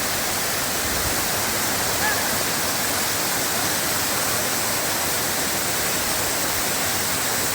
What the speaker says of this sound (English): So I've made it to the base of the falls. A lot of water flowing.